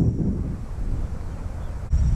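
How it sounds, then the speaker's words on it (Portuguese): Outdoors at a fishing spot where anglers cast lures for trahira, strong wind buffets the microphone in a steady low roar with gusty swells and no talking. "Tá ventando bastante"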